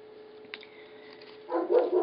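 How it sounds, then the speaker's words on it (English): Several pet dogs bark indoors, breaking into a short loud burst of woofs near the end after a quiet stretch of faint background noise. "It never fails that they'll have to bark while I'm videotaping."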